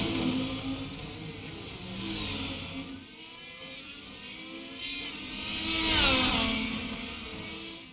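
IndyCar engines roar in a racing video game at Long Beach, with several cars whining and revving up and down, swelling louder as one closes in, steady and continuous with no talk.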